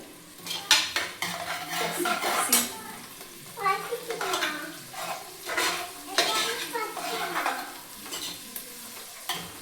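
Onions sautéing in a pan for chicken biryani, with repeated scraping and clanking of a spoon against the pot over a soft sizzle, loud and close, and brief bits of voice in the background.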